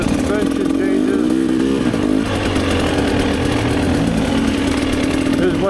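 Two-stroke dirt bike engine of a Rieju MRPro or Gas Gas EC300 on a Michigan trail loop, a loud, steady buzzing drone with some wavering in pitch, heard under a voice.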